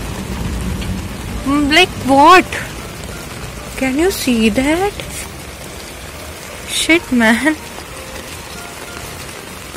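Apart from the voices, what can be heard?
heavy rain falling with thunder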